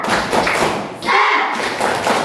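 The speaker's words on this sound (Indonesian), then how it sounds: "Anak-anak semuanya, tepuk semangat." Children in a classroom doing a rhythmic spirit clap led by their teacher: loud, dense claps and thumps in quick patterns, with young voices chanting along throughout.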